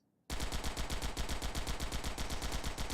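Rapid automatic fire from an MP5-type gun fitted with a long-range scope in the shooter game Global Agenda, starting abruptly after a brief silence and continuing as a steady, loud burst of closely spaced shots.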